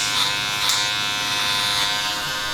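Electric hair clippers with a 1.5 guard fully open buzz steadily through a man's hair during a textured mid fade at a barbershop, a close, continuous whine with slight surges as the blade meets the hair.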